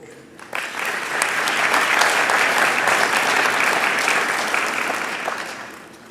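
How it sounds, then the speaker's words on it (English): An audience at a dental school white coat ceremony bursts into applause for the whole class, swelling quickly after a brief pause, holding as a broad, sustained roar, then easing slightly toward the close. "My script says applause and recognition for the entire class at this point."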